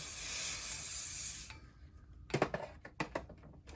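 Hairspray sprayed close to a wig's mid-lengths and ends, a continuous hiss of about one and a half seconds followed by several soft handling taps and rustles.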